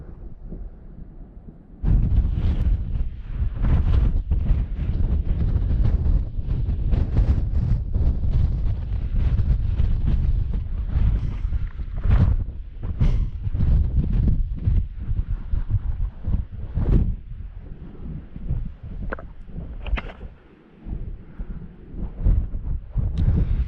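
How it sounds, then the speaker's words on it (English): Strong wind buffets the microphone in loud, rumbling gusts that rise and fall irregularly on the summit of Meall a' Bhuiridh in Glencoe, Scotland, with a brief lull near the end. "It is quite windy, but it's not too bad."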